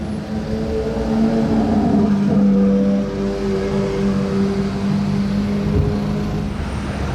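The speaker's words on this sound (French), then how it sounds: "là j'entends une 812 GT, celle-ci a un échappement" A Ferrari 812 GT fitted with an aftermarket exhaust drives past, its engine giving a loud, steady roar that swells slightly mid-pass and holds for several seconds with no talking.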